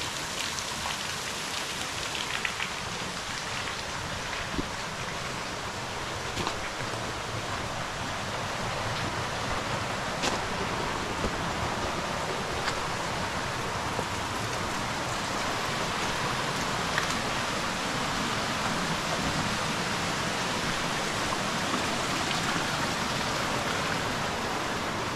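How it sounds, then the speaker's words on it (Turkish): Steady broadband rush of flowing water from a stream in a Bali village near the forest, continuous and fairly close for the whole stretch, with no voices over it. "burada bir dere var."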